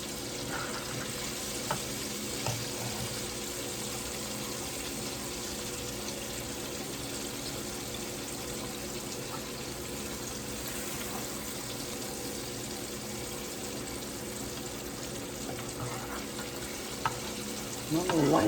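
Slabs of spare pork ribs fry in a pan with a steady, loud sizzle that holds evenly throughout, with a brief stir near the end and no talking.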